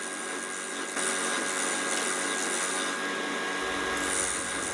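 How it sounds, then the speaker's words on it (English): A spalted sweetgum bowl spins on a wood lathe as a tool hollows its interior, giving a steady, fairly loud continuous scraping whir that grows a little rougher and heavier partway through, with no voices. "Now I'm ready to start hollowing the inside."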